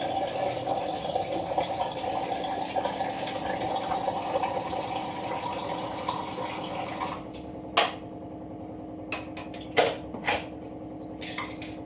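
Water runs steadily into a pot set to heat for blanching tomatoes in a home kitchen, a continuous splashing fill that stops partway, followed by a few sharp clinks and knocks.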